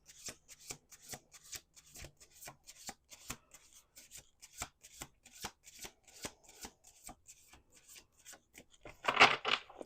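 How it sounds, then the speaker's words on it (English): Tarot cards are shuffled in steady, evenly spaced riffling flicks, close and soft, ending with a denser, louder flurry of card noise near the finish. "I'm doing 2 more shuffles."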